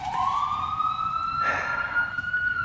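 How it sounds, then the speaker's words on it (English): A police car or ambulance siren passes through a residential area, rising in a single long wail over low traffic rumble. It is fairly faint and distant. "There goes the popo, or an ambulance or something."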